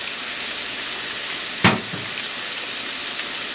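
A T-bone steak sizzles on a grill with a steady hiss of frying fat, broken once by a brief louder crackle as the meat is shifted, with no talking.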